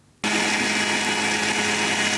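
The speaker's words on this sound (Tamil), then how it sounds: "ஆற வச்ச அந்த கொத்தமல்லி, சீரகம், மசாலா அதையும் போட்டு மசாலா அரைச்சி எடுத்து வச்சிடலாம்" Kitchen mixer grinder grinding roasted coriander, cumin and masala, starting abruptly after a brief quiet moment and then holding a loud, steady high-pitched whirring drone to the end.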